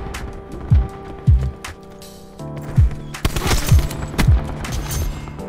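Gunfire in the Black Ops 4 video game: several loud separate shots and short bursts over a steady game background with low tonal hum, no voices.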